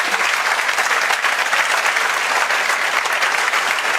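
Applause from an audience at a coaching-centre talk, a dense steady wash of many hands clapping together, loud and close for the whole stretch with no voices over it.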